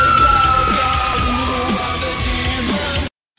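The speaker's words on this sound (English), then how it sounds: "Stop screaming" A girl screams on a fair ride, loud sustained yelling over rumbling ride noise and crowd sounds that cuts off abruptly near the end.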